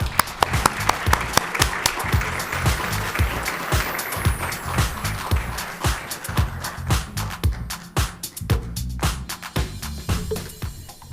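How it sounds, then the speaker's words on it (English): Conference audience at a workforce summit gives a warm round of applause for a keynote speaker, loud, close clapping with sharp individual claps standing out, tapering off over about ten seconds. "Please join me in giving Barb a very warm round of applause."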